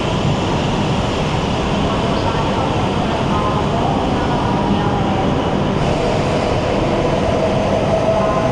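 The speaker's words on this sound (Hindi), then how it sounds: "ये जो सामने आपकी ट्रेन गई है ना, ये ग्रीन वाली, वो जो सामने दिख रही है, ये है यहाँ के सबसे फास्टेस्ट और सबसे न्यूएस्ट शिनकानसेन।" A green Shinkansen bullet train pulls away from Takaoka station, filling the scene with a loud, steady broadband roar and rumble that holds evenly from start to finish.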